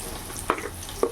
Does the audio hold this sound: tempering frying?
yes